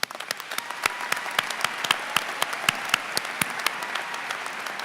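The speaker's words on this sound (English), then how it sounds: "Please join me in a round of applause." Audience applause at a medical school graduation ceremony, a steady round of clapping in a large hall with distinct individual sharp claps popping out regularly over the continuous wash.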